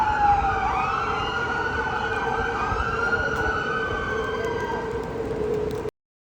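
A passing ambulance siren wails steadily at close range on a street in Malaysia after a serious accident, its rising and falling tones held over a constant traffic rumble before it cuts off abruptly.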